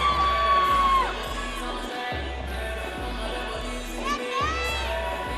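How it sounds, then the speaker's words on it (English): A crowd of family and friends cheers from the stands at a Red vs. Black Night team dance competition, with sustained whoops, high yells and shouts rising and falling together. "I can hear a lot of the crowd above me"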